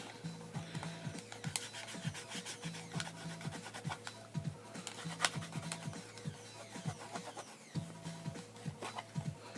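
Close, repeated rubbing strokes scrub dirt off the plastic shell of a game cartridge, a rhythmic scratchy swishing with short pauses between bursts and a faint background hum.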